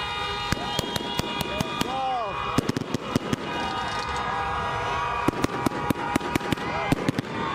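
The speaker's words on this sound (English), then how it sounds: "Shooting off fireworks in the streets of Arizona." Fireworks go off in the streets and on bridges in Arizona: a rapid series of sharp, loud cracks and pops in irregular clusters, with voices talking underneath.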